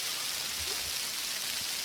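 Sleet mixed with ice pellets falls steadily on a rocky trail during a hike, a soft continuous patter bouncing off rock with no voices.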